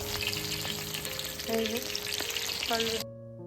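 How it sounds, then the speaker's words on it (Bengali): Chicken pakoras frying in hot oil, a steady close sizzle with occasional stirring sounds, cutting off abruptly near the end. "এখন আমরা যাবো চিকেন পকোড়া ভাজবো"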